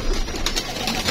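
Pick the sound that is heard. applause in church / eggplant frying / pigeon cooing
pigeon cooing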